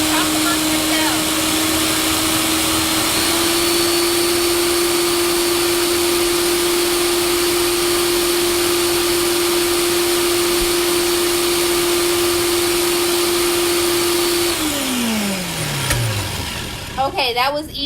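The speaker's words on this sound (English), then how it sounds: "I'm going to put the food processor on." A loud, steady motor whir from a food processor runs for several seconds, then winds down with a falling pitch and a few clatters as it stops.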